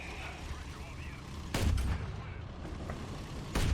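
Anti-aircraft cannon fire in War Thunder pops out as two sharp, loud blasts a couple of seconds apart, each trailing off into rumble over continuous background battle noise.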